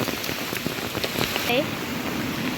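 Steady rain patters on surfaces outdoors during flooding, with fields, a road bridge and a food shop submerged; the downpour forms a dense, continuous hiss with scattered drop impacts throughout.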